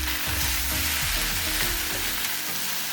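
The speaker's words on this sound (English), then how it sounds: "Stir fry for about 1 minute." Bean sprout fried rice with sesame oil and sesame seeds stir-fried in a pan, a steady close sizzle with repeated scraping and tossing strokes throughout.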